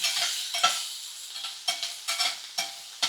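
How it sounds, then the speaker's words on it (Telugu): Onion petals, green chillies and spring onions stir-fried in a pan for soya chunk manchurian, with a bright, constant sizzle and several sharp spoon strokes. "ఆనియన్ పెటల్స్ అలాగే పచ్చిమిర్చి స్ప్రింగ్ ఆనియన్స్ ఇవన్నీ వేసుకొని ఒకసారి కలుపుకుందాం"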